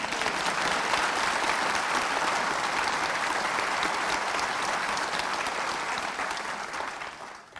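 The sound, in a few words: audience applause at graduation ceremony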